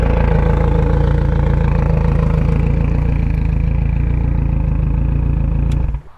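A four-stroke outboard boat engine idles steadily with a loud, even low rumble and rapid pulsing, running alone until it cuts off near the end.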